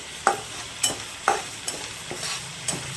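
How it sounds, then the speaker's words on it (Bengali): Mung dal frying with papaya in a pan, with a spoon scraping across the pan bottom in regular, close strokes over a soft background sizzle, no talking. "ততক্ষণ আমি এটা ভাজতে থাকবো।"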